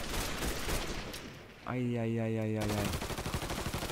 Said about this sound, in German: Oh, mit Maschinengewehr.